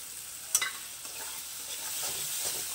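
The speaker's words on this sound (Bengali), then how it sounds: "দিয়ে এটাকে ভালো করে কষিয়ে নেব।" Spice mix with chilli frying in a pan, a steady hiss of sizzling oil with one sharp stirring scrape early on and softer movements after, close and alone with no talk.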